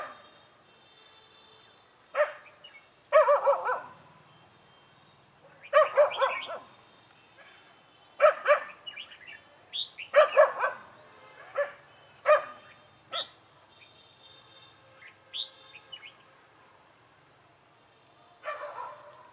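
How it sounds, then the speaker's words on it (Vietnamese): A dog barks in short repeated bursts, loud and fairly close, at irregular intervals outdoors in the late afternoon at a bulbul trapping spot, with steady high insect chirping running underneath throughout. "Càng quát nó càng gâu khỏe."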